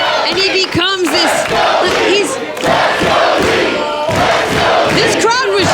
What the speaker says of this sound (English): This crowd was chanting and cheering for Mike Bailey 5 minutes ago, and they have completely turned against him